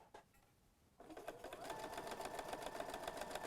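A domestic sewing machine starts up after a quiet moment and stitches fabric with a steady, fast mechanical whir and rhythmic needle clatter, heard up close with no talking.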